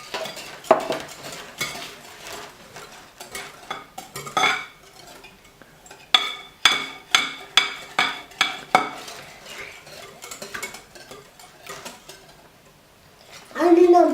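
Spoon scraping and knocking around a bowl as pancake batter with a little baking powder is mixed, uneven bursts of clinks and taps, with voices talking in between.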